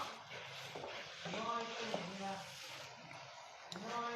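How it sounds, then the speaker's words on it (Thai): Pink noodles tossed with bean sprouts, chives and fried tofu in a pan over high heat, a steady sizzling hiss with scraping stirs, while someone talks over it. "อ่ะอันนี้ใช้ไฟแรงได้เลยนะคะท่านผู้ชม เราก็จะผัดให้เขาเกือบแห้ง"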